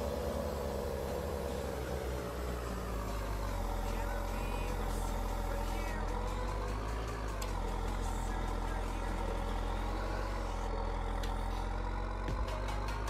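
A New Holland T7 tractor engine in Farming Simulator 19 drones loudly and steadily as it hauls a heavy grain cart through a sorghum harvest, with someone talking over it.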